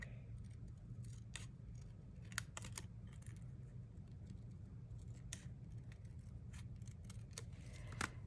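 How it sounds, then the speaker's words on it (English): Scissors snip through patterned craft paper while trimming a card front, giving a few crisp, sharp cuts spaced irregularly over a low steady room hum, with a louder snip near the end. "I'm going to get my scissors."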